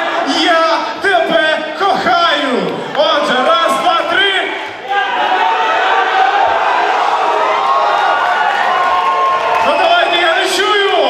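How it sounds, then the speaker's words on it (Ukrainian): A crowd of men at a comedy league show bellow at full volume in a shouting contest, a loud sustained roar of overlapping yells that dips briefly midway and then surges again. "І зараз переможе той, хто найгучніше крикне."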